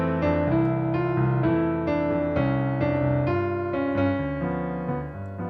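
A piano plays a phrase from a jazz tune, voicing a dominant sharp eleven chord. A steady run of chords and melody notes flows without pause, close and clear, with no talking.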